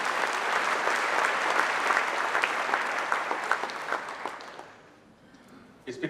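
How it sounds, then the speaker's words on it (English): An audience at a university address breaks into applause, a dense, sustained clatter of many hands that gradually thins and fades out near the end, with a few last claps. "Break in with applause anytime you want to."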